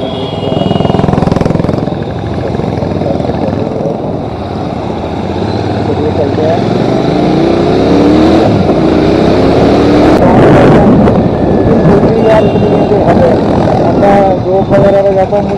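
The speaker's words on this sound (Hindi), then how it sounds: "चलिए थोड़ी सी बाइक को खींचते हैं पहले मेन रोड आ गया।" Royal Enfield Continental GT 650 twin-cylinder motorcycle on a highway, its engine note rising through several gear pulls over constant wind rush, loud and close, with rising whine sweeps in the middle.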